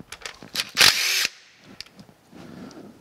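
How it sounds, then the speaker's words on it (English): A power tool backs out gearbox bolts on a Kearney & Trecker 2H horizontal mill. One loud, close whirring burst stands out among scattered metallic clicks and clanks, followed by quieter handling noise. "I'm gonna go ahead and take these out."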